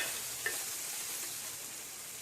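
Tomatoes fry in a pan with a steady, even hiss of sizzling and a faint stir or two, heard close with no talking.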